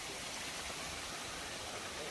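A waterfall in Talybont forest sends out a steady, even rush of falling water, moderately distant and unbroken throughout.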